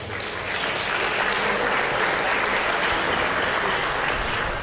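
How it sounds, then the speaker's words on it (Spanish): A room full of people at a working lunch breaks into loud, steady applause that holds at full strength throughout and sounds close. "Fuerte aplauso para el doctor Bernardo Toro"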